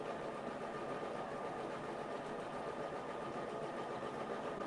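An embroidery machine stitches out a mug rug in a steady, continuous mechanical whir and rapid needle chatter, even and moderately close, running alone with no voices.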